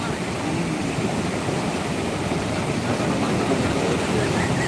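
The flooded Sindfana river rushes past in a loud, steady roar of churning water that fills the whole stretch without a break.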